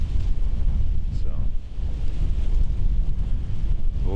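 Strong gusts buffet an outdoor microphone during a Pennsylvania rifle deer hunt, a loud, low rumbling roar that persists throughout with slight rises and falls.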